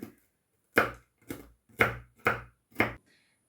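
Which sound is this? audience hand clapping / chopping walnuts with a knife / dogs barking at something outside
chopping walnuts with a knife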